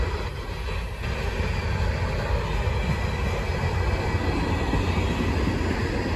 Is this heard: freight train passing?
yes